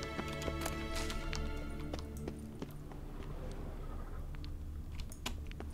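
Horse hooves in The Witcher 3: Wild Hunt clip-clop in quick, irregular steps against a steady low background hum, fairly close and moderately loud.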